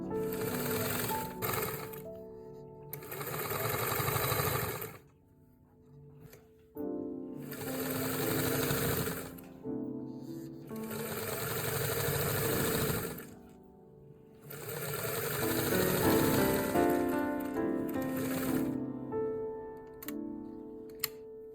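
A sewing machine fitted with a rolled hem foot stitches a rolled hem in several long, steady runs of rapid mechanical clatter, separated by short pauses, close and clear with no voices.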